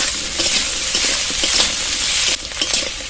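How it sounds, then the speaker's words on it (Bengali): Potatoes and Malabar spinach fry in a pan with onion and five-spice seasoning, giving a constant close, bright sizzle broken by a few stirring scrapes, with no voices. "আলু আর পুঁই শাক 2 মিনিট ভাজার পর"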